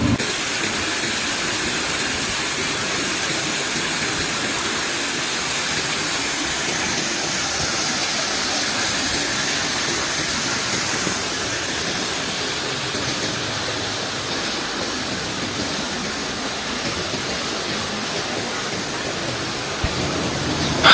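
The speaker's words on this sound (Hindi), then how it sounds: "साफ़ शफाफ पानी बह रहा है ये बीच में से, ये देखिए। और ये एक थोड़ा सा झरना बनाया हुआ है।" Clear water flowing through a small artificial waterfall near Khaplu Palace, a constant loud broadband rushing hiss that holds steady with no voices over it.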